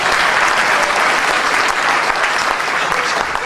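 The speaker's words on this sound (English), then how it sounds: "It depends on how loud you clap for each one, so pay attention." Loud, dense audience applause at a political summit, a continuous wash of clapping from a large crowd lasting a few seconds.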